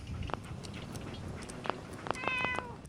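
A cat in the video game Fallout 4 meows several times, short distinct calls spread across a few seconds with a longer wavering one near the end, heard clearly over a faint game ambience.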